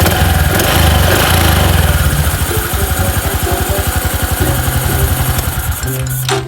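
A 2021 Honda Wave 110i motorcycle with a stock engine idles up close, a loud, steady, throbbing putter with a fast regular pulse that shifts slightly near the end.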